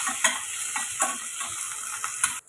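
Onion, tomato and spices sizzle steadily in a hot pan for a semiya kichadi, with a few soft scraping stirs cutting through the continuous frying hiss.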